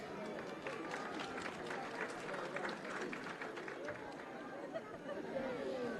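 A crowd at a government ceremony in Río Tambo, Peru, claps and cheers, a dense sustained patter of many hands at a distance, mixed with murmuring voices.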